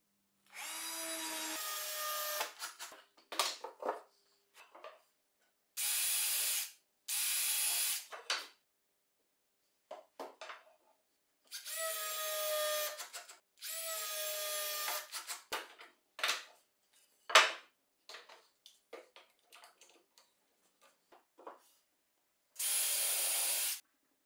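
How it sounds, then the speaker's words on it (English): Bursts of a power drill whirring into wood, pre-drilling screw holes, several short runs separated by pauses, with light tool handling and scraping between them. "I pre-drill the positions of the screws first with a bit, apply a little wood glue, and place the screws"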